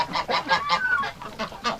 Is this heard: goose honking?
yes